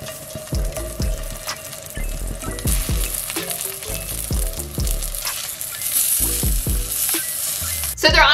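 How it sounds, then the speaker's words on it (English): BeLeaf vegan drumsticks sizzle on a skillet with a constant crackling fry, punctuated by repeated knocks and scrapes of the pieces being moved, ending in a louder burst. "I just put these on a skillet and cooked them for about 5 minutes until there was browning on the outside"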